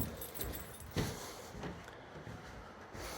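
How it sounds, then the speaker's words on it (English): Keys jangle softly and intermittently under a steady, noisy background. "I got the keys."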